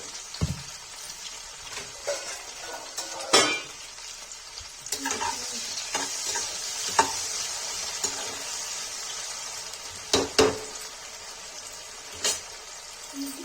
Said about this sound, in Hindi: नमक डाल के फ्राई कर देते हैं